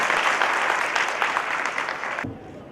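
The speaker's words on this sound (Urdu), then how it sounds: "اور زور سے تالیاں ہونی چاہیے." Applause from a seminar audience, dense steady clapping from a crowd for over two seconds that drops away abruptly near the end, leaving a quieter tail.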